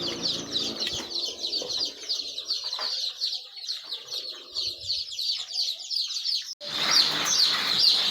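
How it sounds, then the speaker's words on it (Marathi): Native gavran chicks in a brooder peep continuously in a dense, high chorus of overlapping chirps, close and steady throughout, with a brief dip before the cheeping swells louder again. "बघ किती एकदम रंगीबेरंगी एकदम ॲक्टिव्ह गावरान पिल्ले असतात हे"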